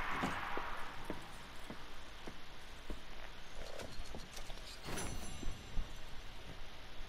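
Horse hooves clip-clop in a steady, light rhythm in the video game Red Dead Redemption 2, over a low ambient hiss, fairly faint and close, with a few soft clicks mixed in.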